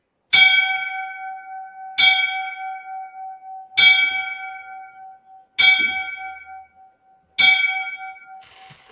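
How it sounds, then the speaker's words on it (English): Five resonant fire department bell strikes for a line-of-duty death ring out at even, slow intervals, each tolling clearly and fading with a long shimmering decay. "We give him the 5 bells, of course."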